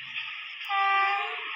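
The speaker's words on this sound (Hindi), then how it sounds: "ये सामने हॉर्न मार के आ रही है" An approaching train in Indian Train Crossing 3D sounds its horn, a loud, sustained multi-tone blast that swells partway through and holds steady to the end.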